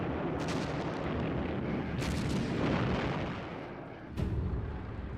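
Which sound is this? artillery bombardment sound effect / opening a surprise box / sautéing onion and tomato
artillery bombardment sound effect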